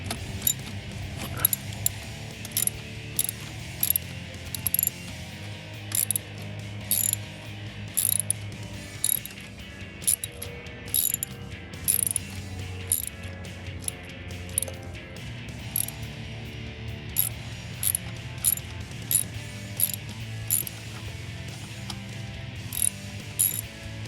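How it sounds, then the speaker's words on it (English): A ratchet wrench loosens nuts and bolts under the hood of a 2012-2016 Jeep Wrangler JK, its pawl clicking in quick repeated bursts up close, with steady mechanical background noise throughout. "I'm going to remove these 2 nuts, these 2 bolts, so take these off."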